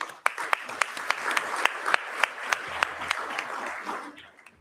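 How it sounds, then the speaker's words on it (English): An audience at an AI, security and ethics conference applauds, a moderate roomful of clapping with several sharp individual claps standing out, tapering off toward the end. "Please join me in giving a round of applause for our speakers."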